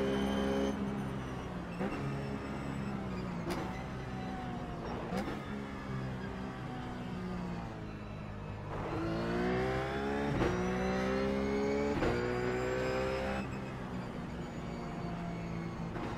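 A Ruf race car laps Bathurst in the iRacing simulator, its engine repeatedly rising in pitch through the gears with brief shift drops, heard steadily and fairly quietly.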